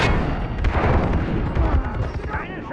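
Rockets and explosions in Far Cry 3 co-op, set in a pirate town, pound in a dense, loud barrage of booms and blasts with heavy low rumble. Voices can be heard among the detonations.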